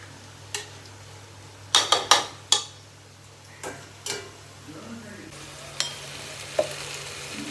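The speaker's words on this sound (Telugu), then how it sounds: "నేనైతే వేసి మిక్స్ చేసేస్తున్నా." Chili powder is stirred into haleem in a pan: a series of distinct scraping, clacking stirring strokes, loud and close, spaced irregularly over a low background hum with a faint sizzle.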